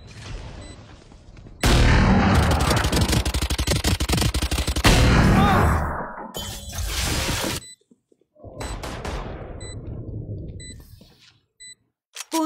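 Rapid gunfire in the Valorant video game: a loud, sustained burst of shots, then more bursts broken by sharp gaps and short electronic beeps, all close and harsh.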